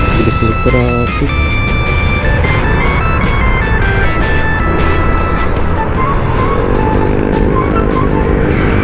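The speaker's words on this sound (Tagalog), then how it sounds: "Bilis ng traffic." Busy street traffic passes along San Rafael Street, with loud vehicle engines and whooshes, horn-like tones and a passing motor swelling near, all mixed with voices talking.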